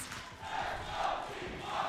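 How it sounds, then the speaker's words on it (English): An arena crowd at a Red Bull Home Ground esports semifinal between T1 and FUT roars in a brief distant swell of cheering and shouting, held low behind the surrounding sound. "And you can hear the crowd now behind them"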